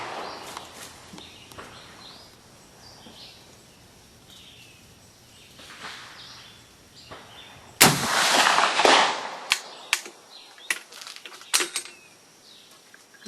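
A 45-70 rifle fires a hot-loaded 406 grain hollow-base bullet at a 200-yard range: a single sharp, loud crack with a short rumbling tail, then a few smaller clicks and knocks, over quiet outdoor ambience.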